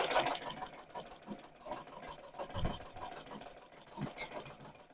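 A sewing machine stitches straight lines on fabric with a continuous rapid mechanical whir and rattle, close and steady, with faint pulsing as the fabric is guided.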